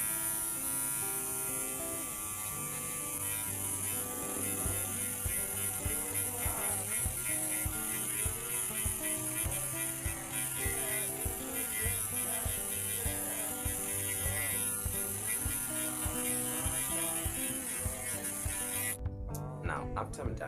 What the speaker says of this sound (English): I'm putting it down and I'm shaving everything that is not level